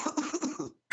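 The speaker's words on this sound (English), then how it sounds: "More coughing." A person coughs in a short run of rough, close bursts, then a brief silence and the start of another loud burst.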